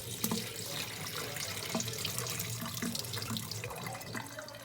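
Water pours and splashes into a kitchen sink as cooked beans are drained by hand for pasta e fagioli, a loud, steady rushing flow with small drips, no talking.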